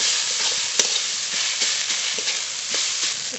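Radish greens fry with a fish in a covered pan after being boiled. A loud, steady sizzle runs throughout, broken by occasional sharp scrapes of stirring, with no voices.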